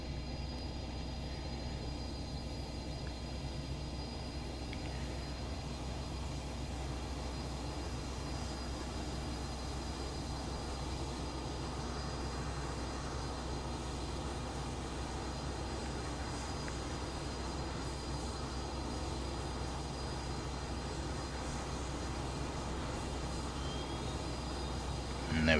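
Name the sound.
Rafale jet engine cold start in Microsoft Flight Simulator video game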